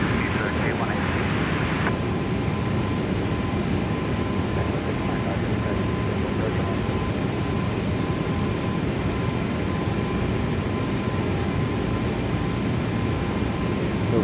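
An easyJet Airbus A320neo takes off from runway 27 in Microsoft Flight Simulator, a steady, dense engine roar filling the whole stretch without letup.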